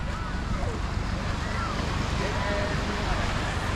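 Ocean waves roll in a steady, broad wash of surf with strong wind noise buffeting the microphone, continuous and fairly loud throughout.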